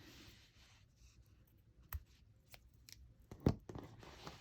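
Scissors snip through yarn during amigurumi crochet work, giving a few faint, close clicks and snips amid quiet handling rustle.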